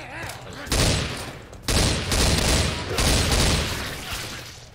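Loud sustained volleys of gunfire in Left 4 Dead 2, dense overlapping shots in two long stretches separated by a brief gap, filling the mix.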